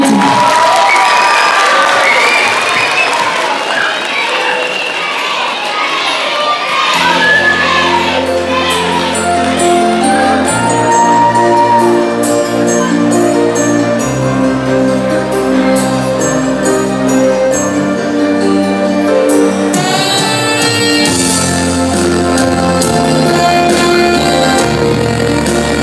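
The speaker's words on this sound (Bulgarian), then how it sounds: "Аплодисменти!" An audience at a charity school concert applauds and cheers for a long stretch, with dense clapping, scattered children's shouts and musical tones sounding underneath.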